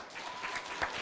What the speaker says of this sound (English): everyone give them a big round of applause